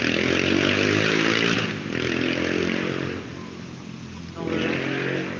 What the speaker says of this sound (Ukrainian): мотоциклетники ганяють.